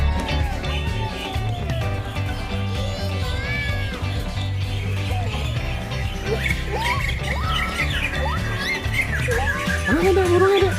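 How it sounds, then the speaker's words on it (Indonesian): Many birds squawk and chirp continuously at a bird park in Jakarta, a busy overlapping mix of harsh calls and whistled notes, loud and close, with a steady low background hum and voices in the crowd. "Samping lihat burung tuh."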